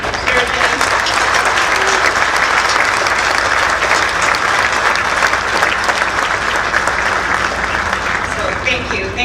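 A large audience gives sustained, dense applause at a steelwork topping-off ceremony for a casino resort in Glendale, honouring the contractors. The clapping is loud and continuous throughout, with no speech over it.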